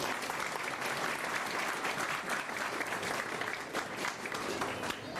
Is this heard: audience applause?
yes